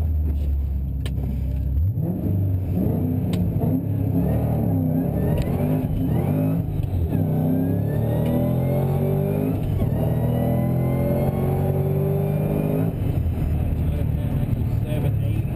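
A 2007 Shelby GT500 Cobra V8 and a four-cylinder Mini Cooper launch together at Greer Dragway. Loud engine roars climb steadily in pitch through the gears, with no break in the sound.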